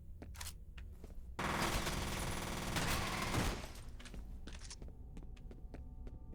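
Sustained burst of video game gunfire, a dense rattling fusillade that swells for about two seconds and then thins into scattered shots over a low hum, with no talking.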